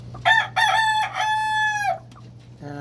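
A Sweater Kelso battle cock kept for breeding crows loudly and close by in one long, drawn-out call, followed by the start of another crow, with no talking.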